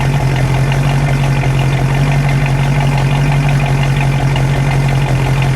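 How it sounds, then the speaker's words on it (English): A 1970 Ford Shelby Mustang GT500 with a 428 Cobra Jet V8 idles outdoors on a cold day, a loud, steady, close low rumble with a constant throb and no revving. "I want to just let that idle for a moment."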